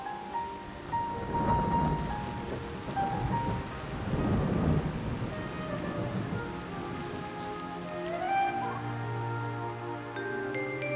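A prairie afternoon thunderstorm brings steady rain on surfaces with low rolling thunder swelling twice, set under a soft orchestral music bed.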